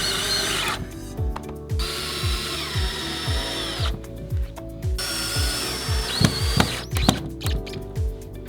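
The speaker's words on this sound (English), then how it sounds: "I'm going to drive a screw into this corner just to get started" A power drill drives a screw into a GenStone faux wood panel being mounted on a wall, whirring in several short bursts with brief pauses between them, close and clear with no talking.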